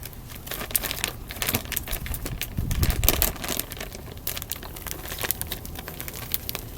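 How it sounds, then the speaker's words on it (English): A plastic bag of potting mix with fertilizer is cut open up close, giving steady crinkling and rustling with a slightly heavier thump partway through. "So I'm just gonna cut the bag open a little bit."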